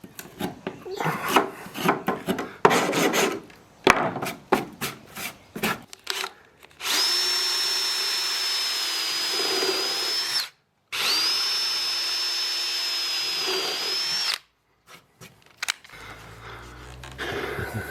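A power drill drives self-tapping screws into pre-drilled deck wood. It comes as two steady, sustained runs of several seconds each, close and loud, with a brief stop between them, after earlier scraping and handling noises.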